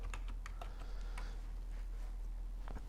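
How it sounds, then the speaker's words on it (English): Typing on a computer keyboard while entering a search in Premiere Pro: a quick run of light, close key clicks in an uneven rhythm, heard alone over a steady low hum. "I'm going to type label."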